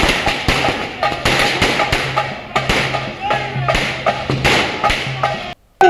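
Fireworks set off with a band playing in the courtyard of Gandhi Bhavan at a Congress victory celebration, a steady run of sharp pops and cracks over music and crowd noise, ending in a brief silence.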